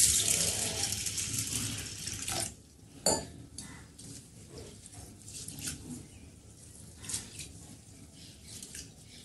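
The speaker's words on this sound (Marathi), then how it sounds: "तांदूळ आणि तूर डाळ दोन्हीही 2 ते 3 पाण्याने स्वच्छ धुवून घेऊ" Rice and toor dal rinsed by hand in a metal pot of water in a home kitchen, a continuous swishing, splashing wash with occasional clinks against the vessel, close by and without talk.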